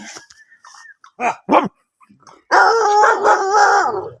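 Dogs kept at a rural garden bark in a few short, sharp yelps, then break into a loud, sustained howl that lasts to the end, close by with no talking.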